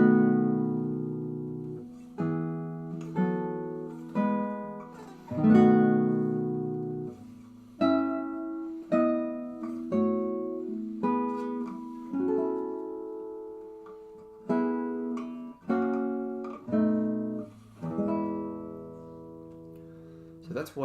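A guitar piece played as grouped chords, with strummed chords ringing out one after another at a steady, unhurried pace over about twenty seconds, clear and close with no voices.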